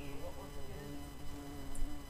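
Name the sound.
bee buzzing near a window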